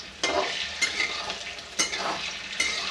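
Besan gatte dumplings, gram-flour dough pieces, frying in a pan with a steady close sizzle, broken by several sharp bursts as they are stirred, with no talk.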